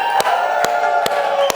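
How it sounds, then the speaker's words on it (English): Conference audience at a pitch event yelling and cheering together on cue, a loud sustained crowd roar with sharp claps or stomps punctuating it at regular intervals. "I need some yelling."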